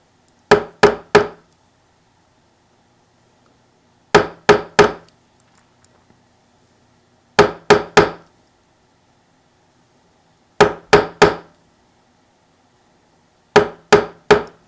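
Firm hammer strikes setting a rivet on the balance wheel of an 1883 Waltham P.S. Bartlett pocket watch: sharp, close metallic taps in quick bursts of two or three, repeated five times with near silence between groups.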